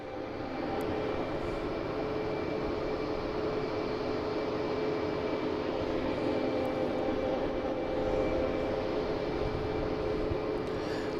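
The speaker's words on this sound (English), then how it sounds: "Next taking off is Air Canada, heading to Toronto in A220" An Air Canada Airbus A220 jet bound for Toronto takes off from Boston Logan, a steady, dense engine roar holding constant with a faint whine riding on top.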